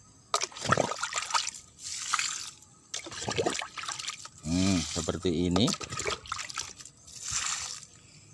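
Water poured from a dipper onto the base of a starfruit tree, splashing and trickling in several short bursts while someone talks over it.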